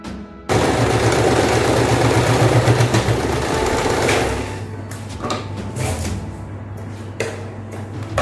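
A sewing machine stitches elastic onto a fabric face mask, a fast, loud mechanical whir running for a few seconds after a sudden start, then slowing into lighter, intermittent stitching and clicks.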